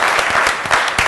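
A studio audience claps together on a football television show, a dense, loud burst of applause lasting just over a second.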